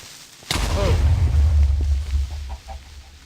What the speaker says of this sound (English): I keep hearing these random explosions that sound almost like creepers or TNT going off.